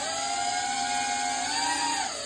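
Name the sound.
DJI Avata 2 FPV drone flying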